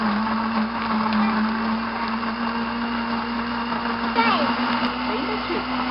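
A kitchen blender whirs steadily at full speed, whipping up recipe ingredients with sugar in a loud, unbroken motor whine, while people talk over it.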